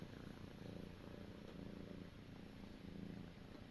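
A cat purrs softly and close by in a continuous low rumble that swells and eases with its breathing, quiet and alone.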